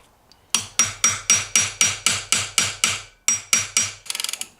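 A metal washer is hammered flat during KZ1000 motorcycle engine work: about a dozen sharp, evenly spaced hammer strikes ring out close and loud, with a short pause before the last few and a rapid flurry of lighter taps at the end.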